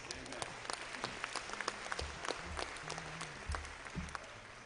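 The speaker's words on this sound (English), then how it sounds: "Let's give the Lord a hand clap of praise." Church congregation at a spring revival service claps hands in praise, a busy, uneven patter of many claps heard at moderate distance, with low organ or bass tones sounding in the background.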